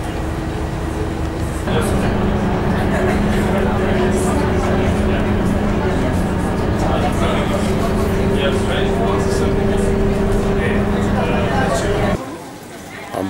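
The inside of an airport bus hums with a continuous engine drone and rattling cabin noise, holding loud and steady for several seconds before suddenly dropping away; a voice speaks over the ride.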